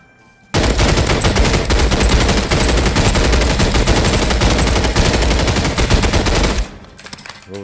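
Sustained rapid automatic gunfire in a first-person shooter game, a dense, loud, continuous burst lasting several seconds before cutting off abruptly, with no talk.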